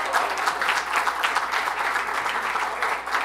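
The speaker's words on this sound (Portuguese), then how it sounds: "Então, aqui, o Matheus, o Vicente, para os nossos aplausos." Audience applause at a formal ordinary session following a chula dance presentation: dense, steady clapping from many hands that holds at an even level from start to finish.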